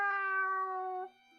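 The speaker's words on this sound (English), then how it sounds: "The cat is back." A house cat gives one long, clear, tonal meow close by, holding steady for about a second before it drops to a quieter, lower tail.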